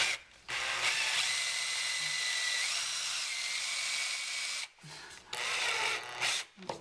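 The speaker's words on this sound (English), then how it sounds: "I'm just going to self-tapper that in place" A power driver whirs in long bursts as a self-tapping screw is driven in without pre-drilling, mounting an LED underbody light on a Land Rover Discovery 3, stopping briefly between runs, with a faint voice in the pauses.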